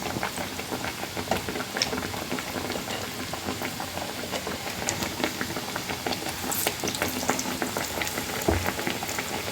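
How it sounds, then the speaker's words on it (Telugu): Black-eyed pea vadas deep frying in hot oil, a dense continuous bubbling sizzle with crackly pops that holds steady throughout, close and loud, with no voices. "మంచిగా డీప్ ఫ్రై చేసుకోవడం"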